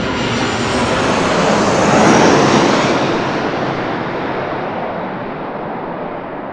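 An airliner arriving from Phoenix to land on runway 24 left passes close and loud, its broad jet roar swelling to a peak and then easing away as it goes by.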